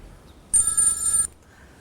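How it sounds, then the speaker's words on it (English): A telephone bell rings in one loud, bright burst of about three-quarters of a second, close and clear against a quiet background with no talk over it. "Phone."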